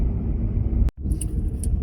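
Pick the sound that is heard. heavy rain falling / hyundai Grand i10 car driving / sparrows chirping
hyundai Grand i10 car driving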